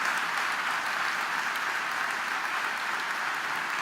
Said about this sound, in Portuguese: Aplauda o Senhor por isso, querido.